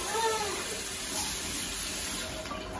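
Tap water running steadily into a pot of rice for cooking, a continuous close gush and splash that eases slightly toward the end.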